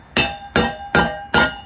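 Four sharp metallic clangs from a lump hammer tapping a kindling splitter ring out at an even, quick pace, each with a short bright ring, close by.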